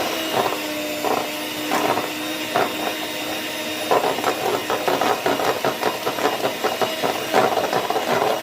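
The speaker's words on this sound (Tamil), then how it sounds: "இப்போ நம்ம பீட்டர் போட்டு பீட் பண்ணிடலாம். ஒன் ஸ்பீடு வச்சு பீட் பண்ணால் போதும்." An electric hand mixer on one speed beating melted chocolate and butter for ragi brownies, a steady whirring motor hum broken by rhythmic rattling pulses as the beaters knock the bowl, close and loud.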